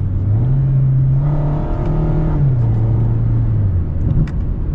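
A 2022 Mazda MX-5 Miata RF Grand Touring with an automatic transmission accelerating, its engine note climbing steadily in pitch, dipping briefly at a shift and rising again, loud and close with no talking.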